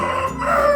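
A hobby-kept rooster crows once, loud and close, a brief sharp call with a rising, drawn-out tone.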